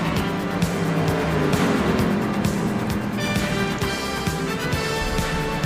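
Race cars roar around the track at Five Flags Speedway in a racing video game, a loud continuous blend of engine drone with layered overlapping revs as several cars battle closely.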